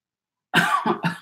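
A sudden, close cough in three quick bursts following silence.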